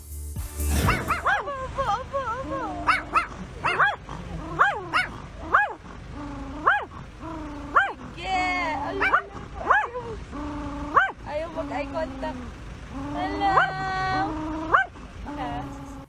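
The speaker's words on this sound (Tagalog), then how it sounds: "Nagtahulan sa isa't isa ang Yorkshire Terrier at Pomeranian na sakay ng magkatapat na sasakyan." A Yorkshire Terrier and a Pomeranian riding in facing cars bark and yip at each other, with sharp repeated barks, whimpers and howl-like whines over street noise.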